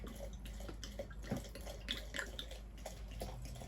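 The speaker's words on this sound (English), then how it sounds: "this rosé pours really awkwardly" Rosé wine pours from a bottle into a container in faint, irregular glugs and splashes over low background noise, with no talking.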